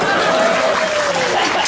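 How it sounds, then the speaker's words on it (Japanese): Dense applause from a jazz concert audience during a salsa performance fills the whole moment, a steady wash of many hands clapping, loud and close, with a faint tone running beneath it. "ここ拍手するんですよ。"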